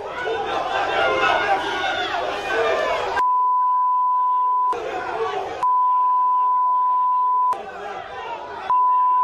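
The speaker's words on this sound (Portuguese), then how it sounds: "Não só a torcida, mas o pessoal aqui dentro também tá protestando." Football fans protest inside the stadium during Flamengo vs Goiás, a dense roar of crowd voices and chanting repeatedly cut off by long, steady beeps.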